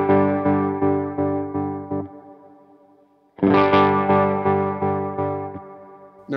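Electric guitar chords through an Electro Harmonix Stereo Pulsar tremolo pedal with reverb, pulsing in a steady rhythmic throb; one chord fades away before a second loud chord strikes and keeps pulsing.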